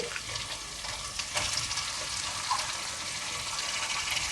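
Chicken for a drumstick chicken curry fries in a pan with a dense, even sizzle and crackle, steady throughout the few seconds and heard alone without speech.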